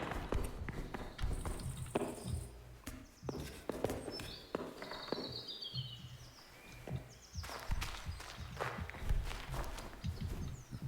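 A horse walking in the Kingdom Come: Deliverance video game, its hooves giving a steady clip-clop rhythm throughout, with faint bird chirps in the background.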